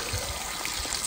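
Mountain spring water flows in a soft, steady outdoor trickle, faint and continuous with no voices over it.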